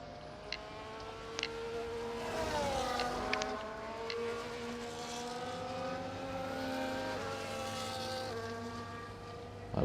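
Formula 1 cars racing at Britain in the video game F1 24, engines whining and shifting pitch as they pass, a steady moderate drone with rising and falling tones.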